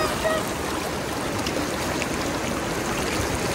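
Fast-flowing mountain river water near McLeodganj, a constant broadband rush and gurgle, close and steady throughout with no breaks.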